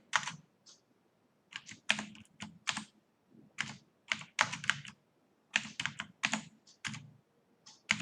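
Fingers tap out C++ code on a computer keyboard in irregular clusters of crisp, close keystrokes with short pauses between bursts and no voices.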